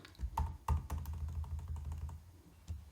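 Rapid clicky tapping on a computer keyboard as shortcuts are entered, a run of close, crisp key presses with a couple of heavier thumps, no voices.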